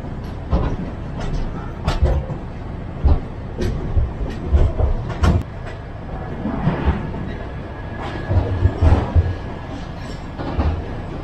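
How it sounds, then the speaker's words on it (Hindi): Ernakulam Duronto Express running on rails after overtaking another express near Ernakulam Town, with a steady rumbling ride and repeated low thumps and clacks of wheels over rail joints, close and continuous. "ये अभी अपन लोगों ने ओवरटेक किया परशुनाथ एक्सप्रेस को एर्नाकुलम टाउन से"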